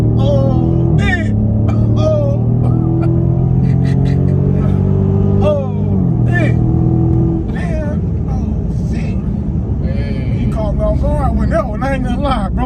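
A 392 Dodge Charger Scat Pack engine revs and roars during a ride, rising and falling in pitch beneath excited voices chatting throughout.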